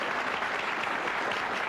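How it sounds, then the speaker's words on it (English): A studio audience applauds steadily throughout, a dense, even wash of clapping with no talk over it. "you can applaud them if you'd like"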